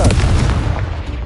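A Confringo spell exploding in the video game Hogwarts Legacy, a loud, close, booming burst with a heavy low rumble that decays over about a second.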